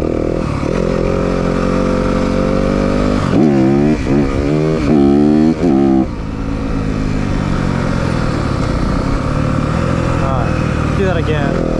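A 2023 Yamaha 250FX dirt bike engine running loud and close, holding a steady drone, then revving sharply in several quick throttle blips before settling back, with a voice talking over part of it.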